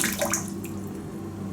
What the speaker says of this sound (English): then I will be adding hot water to this